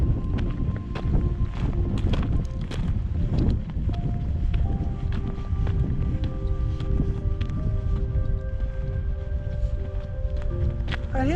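Strong wind buffets the microphone on a coastal walk from Portballintrae toward the Giant's Causeway, a constant low roar with gusts, while faint tonal sounds drift in the background.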